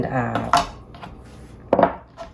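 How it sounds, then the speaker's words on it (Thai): A cutting board shifting and knocking against a kitchen counter, giving two sharp wooden-and-hard clacks a little over a second apart, close and fairly loud, with quieter rattling in between. "มันจะได้ยินเสียง เสียงมันจะดัง แล้วก็อ่าเวลาเขียงมันขยับเนี่ย"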